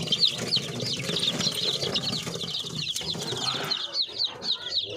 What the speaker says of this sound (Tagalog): Yan, nasisigla ng mga sisiw natin, mga Pinoy.